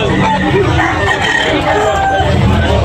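Rooster crowing at a busy chicken market, a loud crow rising above dense crowd babble, clucking fowl and constant background din.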